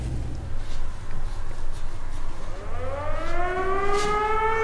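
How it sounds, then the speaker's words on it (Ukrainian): Civil defense air raid siren sounding in wartime Poltava, Ukraine, its wail rising in pitch and swelling loud over a rumbling background, with faint footsteps. "Дуже часто лунає повітряна тривога і ми ходимо в укриття."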